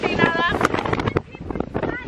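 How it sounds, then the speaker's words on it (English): Strong wind outdoors in Las Vegas buffets the microphone with a loud, continuous roar and gusts, while people talk underneath it. "It's real windy in Vegas today."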